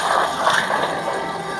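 Water is poured onto a floor for mopping at home, making a brief, close splashing gush that runs steadily for a moment.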